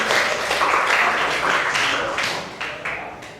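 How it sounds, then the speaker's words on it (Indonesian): Classroom students clap together for a classmate, a loud burst of many hands that thins into a few separate, fading claps at the end. "tepuk tangan ya buat Iqbal ya"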